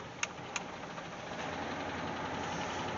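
A Jeep Wagoneer engine idles with a steady, even rumble that holds throughout, marked by two brief sharp clicks near the start.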